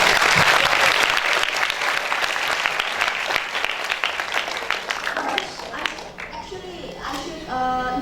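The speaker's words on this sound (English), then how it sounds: "Please give them applause." Applause from an audience at an international seminar starts dense and loud, then thins and fades over several seconds, leaving a few scattered claps and faint electronic tones at the end.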